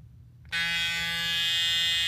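A pair of StyleCraft Instinct hair clippers switches on about halfway in and holds a loud, steady electric buzz close by, with no one talking.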